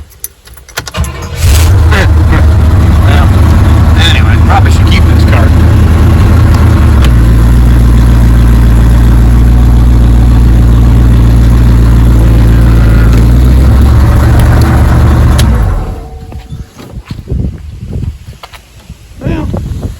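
A 1968 Pontiac Firebird engine cranks and fires, then idles loudly and roughly for about thirteen seconds before shutting off, leaving quieter ambient noise; someone briefly speaks near the end.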